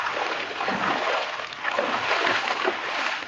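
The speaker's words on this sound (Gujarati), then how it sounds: "અહીંયા વચ્ચેથી જવા પડે અમારે પાણીના અંદરથી" Someone wades through monsoon floodwater on a road under a small bridge, with continuous close splashing and sloshing that barely pauses.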